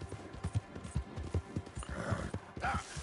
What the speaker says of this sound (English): I'm gonna take my horse to the old town road